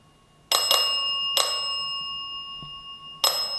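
A small bell on a ghost-hunting device rings inside the abandoned Pennhurst asylum. Clear metallic dings come in a quick pair, then one more, each leaving a long shimmering ring in a quiet room, and a final strike follows after a pause.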